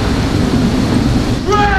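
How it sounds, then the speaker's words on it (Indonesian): A storm roars as a dense, steady wash of rain and wind with a deep low rumble, holding at a constant loud level throughout, with a faint tonal whistle rising briefly near the end. "ini lagi badai juga nih"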